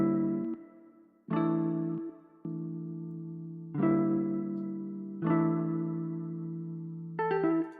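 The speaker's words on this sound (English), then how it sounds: "I started off with these chords right here, these ones right here, and they sound something like this" A melodic, eerie trap beat chord progression starting on G: sustained synth chords change in distinct steps about every second or two, each struck cleanly and ringing out alone.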